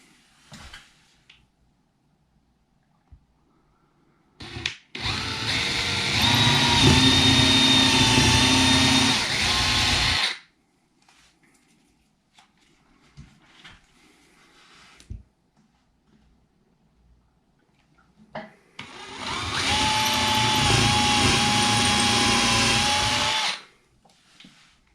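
Power drill boring an 1/8 inch bit into wood while treating for termites: two steady high-pitched whirring bursts of about five seconds each, close and loud, separated by near silence with faint handling noises.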